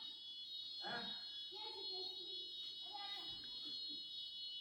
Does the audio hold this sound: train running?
no